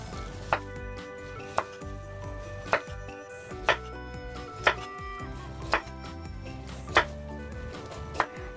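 A knife chops peeled carrots into pieces on a board, about eight crisp, evenly spaced knocks close by, with faint kitchen clatter in between and no speech.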